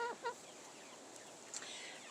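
Backyard chickens, Buff Orpingtons, Wyandottes and Americanas, give a few soft, short clucks at the start, with a faint higher call later over a quiet outdoor hiss.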